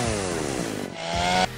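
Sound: chainsaw in video game DOOM (1993)

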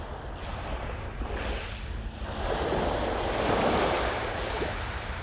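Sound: waves on the shore of Toronto's secret beach

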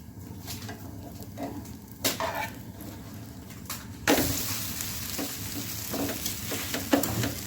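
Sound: dosa frying and being flipped on a pan with oil

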